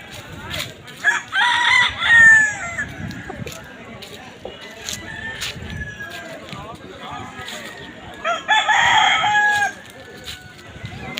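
Roosters crow repeatedly at varying distances, a couple of loud calls standing out over a busy outdoor background of voices and clucking.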